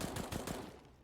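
Counter-Strike: Global Offensive gunfire spraying in a rapid automatic burst in an esports match, a quick rattling string of shots lasting about a second at moderate level, fading slightly at the end.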